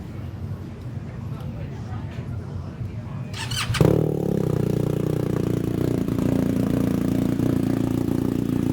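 BMW R1250GSA/R1200GS motorcycle fitted with a Vance and Hines exhaust fires up with a brief squeal, then settles into a steady, loud, close idle.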